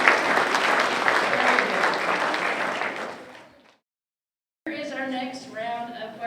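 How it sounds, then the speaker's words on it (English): A school district geography bee audience gives a round of applause, dense clapping that fades out after about three seconds, followed by a pause and then someone talking. "Let's give them all a big round of applause."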